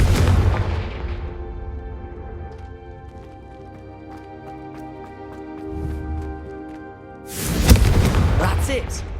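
Confringo fire spell explosions in the video game Hogwarts Legacy: a loud blast opens, a sustained tonal musical bed follows, then a second heavy booming burst near the end.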